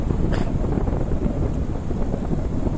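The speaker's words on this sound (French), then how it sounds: "Et il y a du vent." Steady wind roaring and buffeting across a microphone throughout, while riding a mountain bike at speed along the coast near La Carolina beach, Almeria, with no voices.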